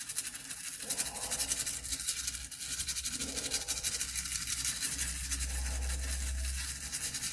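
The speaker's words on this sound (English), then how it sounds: "I'm just going to give this little edge connector a clean, bring out the little trusty toothbrush" A toothbrush scrubs the oxidised edge connector of a Sega Mega Drive console, making a steady, close, bristly scratching that runs continuously with no talk.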